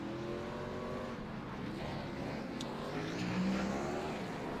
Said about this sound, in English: There you see a war-battered 41 car driving by on your screen.